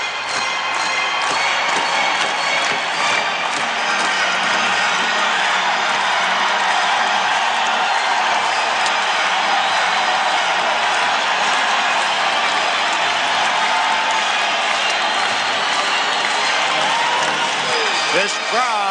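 A hockey arena crowd of nearly 15,000 at a 1987-88 NHL playoff game between the St. Louis Blues and the Chicago Blackhawks fills the air with a constant broad roar of cheering, heard under a broadcaster's ongoing talk.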